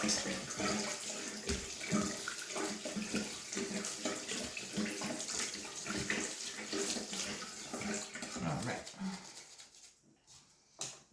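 Tap water runs steadily into a bathroom sink being rinsed out, a continuous close splashing wash that tapers off near the end.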